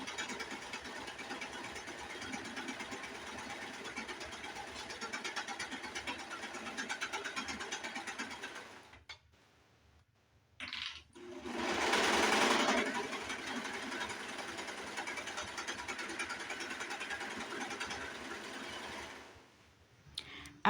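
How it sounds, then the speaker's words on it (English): A serger sewing machine stitching a fabric seam for a headwrap, running in a steady fast mechanical whir that stops briefly, restarts in a louder burst, then hums on evenly. "I'm gonna start serging on my machine"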